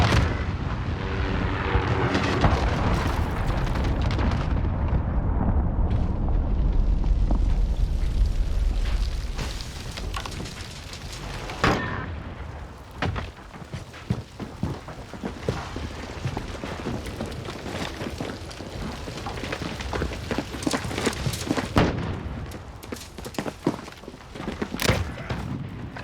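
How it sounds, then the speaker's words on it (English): A series of heavy cruise missile strikes in a video game: a long, loud rumbling roar of blasts that gradually decays, followed by scattered sharp booms and crackling impacts, with no talking. "Allied cruise missile launch."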